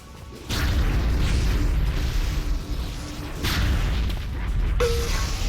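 A headshot gunshot in a competitive shooter game match, a loud booming blast with a sharp crash, heard over dense continuous game noise with further impacts and whooshes.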